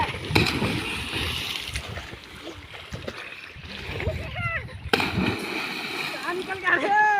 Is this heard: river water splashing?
yes